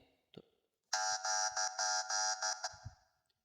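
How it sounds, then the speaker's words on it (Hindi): A phone's anti-theft motion-detection alarm goes off after a few faint handling knocks. It gives a loud, shrill electronic buzz in rapid on-off pulses for about two seconds, then stops. "तो जैसा कि आप लोगों ने देखा इसने खुद ब खुद अलार्म स्टार्ट कर दी अगर कोई इसे उठाने की कोशिश करता है।"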